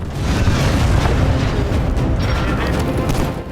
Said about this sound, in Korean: 바로 그때 어디선가 날아오는 지원 포격.